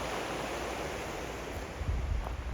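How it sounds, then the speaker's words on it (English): Flowing river water beside a forest trail, a steady broadband rush that swells slightly louder toward the end, with no talk over it. "There's the river."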